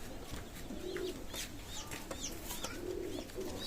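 Royal Teddy pigeons coo in low, soft rolling bursts, two distinct coos over a steady hum of loft background noise, with faint higher chirps from other birds nearby.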